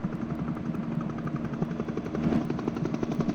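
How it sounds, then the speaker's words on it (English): Military helicopters flying back and forth over a shoreline in 1968-69 footage, a loud steady rotor thump with a rapid chopping pulse, close and continuous without any talk. "You can see the helicopters flying back and forth, working the shoreline"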